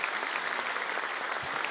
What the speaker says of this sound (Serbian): Molim jedan aplauz za našeg Gorana Božovića